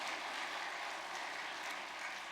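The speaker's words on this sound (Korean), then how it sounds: "큰 감사의 박수를 올려주시기를 바랍니다" Audience applause at a formal gathering, a steady, fairly faint wash of many hands clapping that sounds somewhat distant and continues evenly without pauses.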